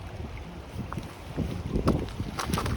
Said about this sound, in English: It's the wind again.